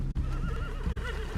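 A horse in Red Dead Redemption 2 gives a loud, close, wavering whinny lasting over a second, with low rumbling movement beneath it and brief dropouts in the sound.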